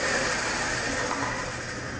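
A Hougen magnetic drill motor runs at a constant speed, giving off a smooth mechanical whir with a thin high whine on top. The sound is steady and close, and nobody speaks.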